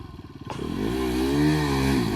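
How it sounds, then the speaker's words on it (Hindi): A new motorcycle being ridden off-road at full power, its engine revving hard and climbing in pitch with a steady loud drone, close by, with no talk. "नया बाइक है ना इसलिए ये तो फुल पावर दे रहे"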